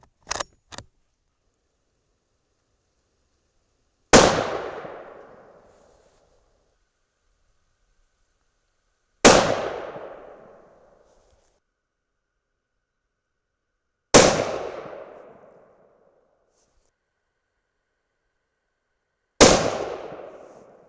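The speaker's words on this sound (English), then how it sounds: "This is the first one, shooting at the left-hand dot." Four loud rifle shots from a Thompson Center Compass in 6.5 Creedmoor, spaced about five seconds apart, each a sharp crack with a decaying echo, after a couple of faint clicks at the start.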